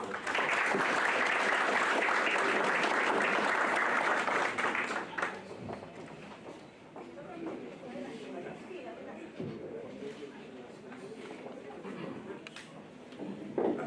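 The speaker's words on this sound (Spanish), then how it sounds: "pedimos un fuerte aplauso" Loud audience applause at the opening of an ethics forum in Callao, a full round of clapping that fades out after about five seconds into quieter room sound.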